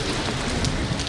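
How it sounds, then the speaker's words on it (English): A heavy downpour of rain pours in a dense, continuous hiss with scattered droplet spatters on surfaces, loud and steady with no speech. "Not even the heavy downpour"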